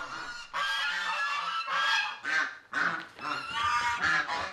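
Geese honk loudly and close by in a rapid, overlapping series of harsh calls with brief pauses, and no voices are heard.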